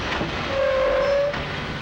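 A train passing at night in a dramatized railway scene, a loud continuous rumble with a sustained horn-like tone in the middle of the short stretch.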